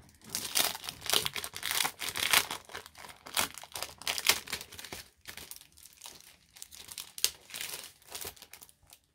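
Gift wrapping paper being unrolled and handled, with a loud, close crinkling and rustling in irregular bursts and brief pauses between them.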